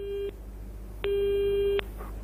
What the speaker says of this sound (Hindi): नरेंद्र का शायद फोन कट हो गया है